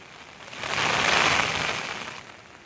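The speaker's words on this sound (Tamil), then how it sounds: "கும்பகோணம், ஒரத்தநாடு, பட்டுக்கோட்டையில் பரவலாக மழை பெய்தது." Rain falling during a wet spell in Tamil Nadu, a steady hissing wash that swells toward the middle and eases off, with no voices.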